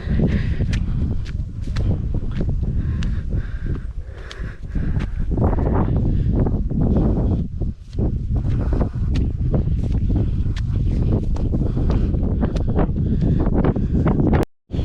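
Wind blows hard and steadily across a mountain top at Kalvari Mount as mist rolls in, buffeting the microphone close up, with footsteps from the climb mixed into the roar.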